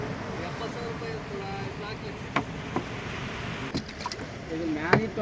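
A fishing boat comes in at a beach, with a steady rumbling wash of engine and water noise and a few knocks, while a voice talks nearby.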